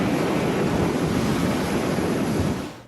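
An aircraft launched by steam catapult from the deck of the carrier USS Nimitz, a loud, sustained broadband roar of jet engine and rushing air that stays steady close by and cuts off abruptly at the end.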